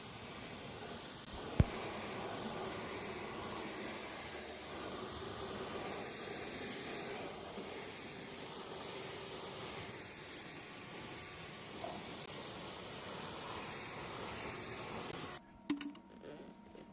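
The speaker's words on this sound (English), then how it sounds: "This unit is much quieter than my old gas pressure washer" A soft, continuous hiss of a Simoniz Platinum 2300 PSI brushless electric pressure washer spraying for most of the clip, ending in a few clicks and knocks.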